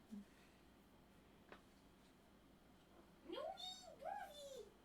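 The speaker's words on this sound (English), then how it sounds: "She saw your cat." A house cat meows twice from a nearby room, the cries rising and falling with a brief pause between them, faint against a quiet indoor background.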